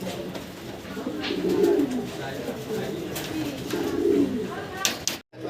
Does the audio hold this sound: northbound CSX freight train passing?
no